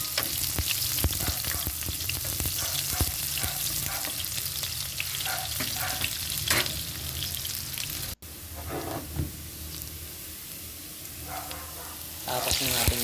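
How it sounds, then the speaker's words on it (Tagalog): Onions and garlic frying in hot oil in a pan, a loud steady crackling sizzle with occasional stirring clatters throughout, easing slightly after a short break partway through. "Sa golden brown na, sabay na natin yung ating sibuyas."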